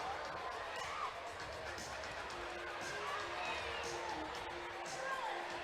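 Crowd noise at a Wichita Wings indoor soccer game against the RGV Barracudas: a steady, fairly faint arena murmur with scattered shouts and whoops, heard under continuous commentary.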